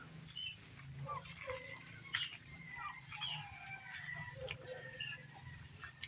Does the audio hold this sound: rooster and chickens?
yes